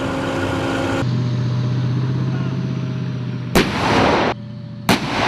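A K-1 main battle tank's main gun firing on a training range: two sharp, loud blasts a little over a second apart, over a steady low engine rumble.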